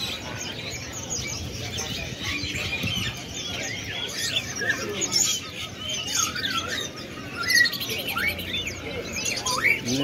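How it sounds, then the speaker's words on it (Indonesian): Many caged songbirds chirp and trill at the Jatinegara animal market, with overlapping busy calls close by against a murmur of market noise. "Ini burung kicau."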